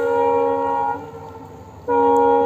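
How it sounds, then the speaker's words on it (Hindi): A train arriving from Silchar sounds a loud, steady horn chord nearby in hilly country near Haflong. The horn pauses for about a second, leaving rumble underneath, then blares again. "ये ट्रेन पूरा सिलचर से आया हुआ ट्रेन है"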